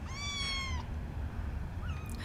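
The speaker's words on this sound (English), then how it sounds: "My little kitty." A cat gives two meows, a longer one followed later by a shorter, fainter one, close by over a low steady background hum.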